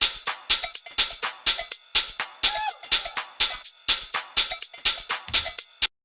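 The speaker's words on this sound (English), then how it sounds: "Just your classic 909 ride" Roland 909 ride cymbal sample, pitched down and hard panned, playing a steady fast pattern of bright metallic hits, close and dry with no voices.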